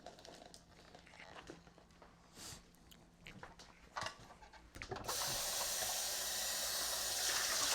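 Hot water from a kitchen tap pours steadily into a Clever Coffee Dripper for a rinse, a loud continuous rushing splash that starts abruptly after several seconds of light clinks and handling noises.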